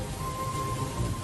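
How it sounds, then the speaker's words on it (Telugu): Rain falls in a steady, fairly loud wash of hiss with a faint low rumble underneath and no talking. "కృష్ణక్క వర్షంలో తడిసిపోతుందక్క."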